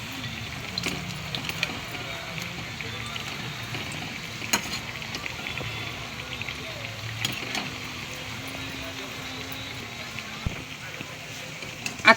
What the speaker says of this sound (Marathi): आपण आता बारीक गॅसवर तळून घेऊ